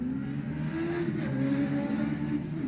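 Racing motorcycles launch at the start of a TT Formula 1 race, their engines revving in a steady, fairly distant roar with a rising tone.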